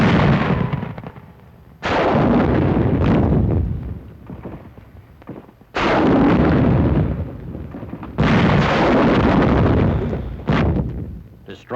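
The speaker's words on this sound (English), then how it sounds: "Resulting explosions close all but the biggest caves" Bazooka fire and demolition charge explosions at hillside caves in WW2 combat in the Philippines, sounding as four loud, long booming blasts, each rolling out and decaying before the next, with sharper cracks between.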